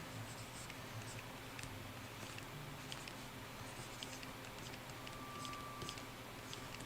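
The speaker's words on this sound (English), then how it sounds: "let's add my signatures somewhere around here" A signature being written on a drawing: faint, close scratching of a pen on paper in short strokes over a steady background hiss.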